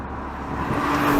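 A 2021 Nissan GT-R NISMO engine pulling hard in second gear from around 3,000 RPM, a brief rising roar that grows steadily louder, heard close and alone.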